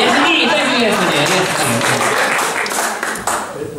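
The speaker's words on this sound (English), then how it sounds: "Round of applause for this." An audience applauds at a live jazz band performance in Ross on Wye, with dense, steady clapping filling the room for nearly four seconds and voices mixed in, tapering slightly toward the end.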